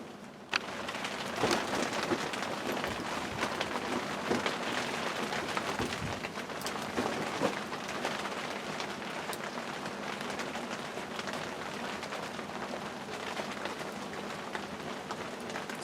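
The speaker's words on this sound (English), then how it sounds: "It's still raining." Steady rain falls outside a small shelter, a dense continuous patter on surfaces around it, constant in level with scattered louder drips and a faint low rumble beneath.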